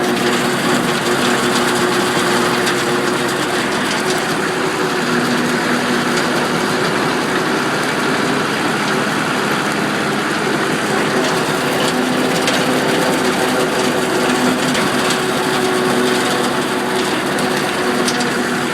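Kubota M4050 two-wheel-drive tractor running steadily in sixth gear while mowing through tall grass, a loud continuous engine drone with a broadband cutting roar that holds unbroken throughout, no voices.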